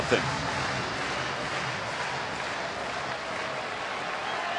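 Crowd noise at a Phillies baseball game, a steady broadband roar of many voices filling the ballpark, sustained and even throughout without distinct peaks.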